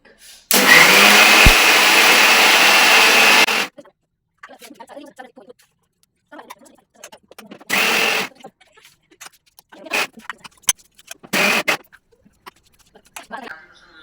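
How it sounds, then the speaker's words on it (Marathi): A kitchen mixer grinder grinding rice runs in one loud, steady burst of about three seconds. Several shorter whirs follow, separated by quiet gaps and some low voices. "आता मिक्सर गर गर गर गर फिरवून आपण बारीक करून घेऊ."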